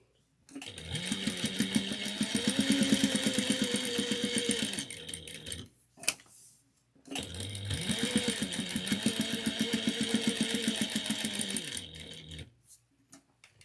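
A sewing machine stitches in two long, steady runs of rapid mechanical whirring, separated by a short pause with a click, close and clear with no talking.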